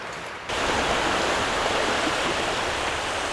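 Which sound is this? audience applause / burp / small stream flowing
small stream flowing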